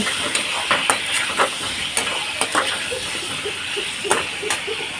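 Potatoes frying in a pan with a continuous sizzle, punctuated by light clinks and scrapes of stirring.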